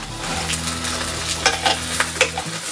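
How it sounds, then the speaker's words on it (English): Salmon fillet frying in a pan, a steady close sizzle with a low continuous hum underneath and a few brief stirring or scraping clicks, no talking. "Now I'm going to cook this for 5 minutes, and I'm flipping on the other side."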